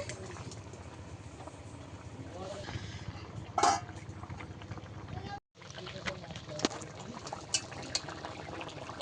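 Water is poured into a cooking pan of potatoes for a poppy-seed curry, a running, bubbling liquid sound close by, with a voice talking over it and a brief gap partway through.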